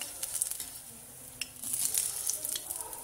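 Cauliflower pakoras frying in hot oil, with a soft continuous sizzle and crackle and occasional sharper pops and stirring sounds, close and fairly quiet.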